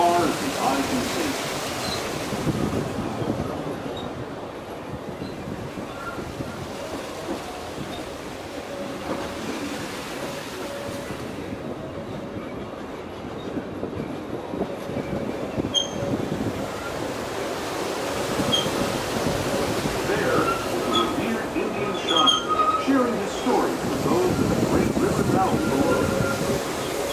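Disneyland Railroad train ride rolling along with steady wheel and carriage rumble over broad rumbling noise, wind buffeting the microphone, and a voice speaking over it throughout.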